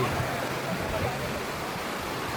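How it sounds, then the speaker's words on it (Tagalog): Strong sea waves wash up on Boracay beach, a steady hissing roar of surf heard alone at moderate level, without speech. "Medyo lakas ang alon."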